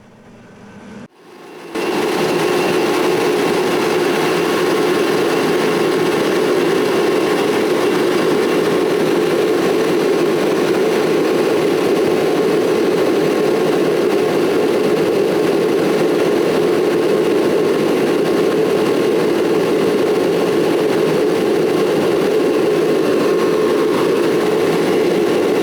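A torpedo heater starts up and its flame burns with a loud, steady roar. The rushing hum stays constant and close for the whole time, with no speech.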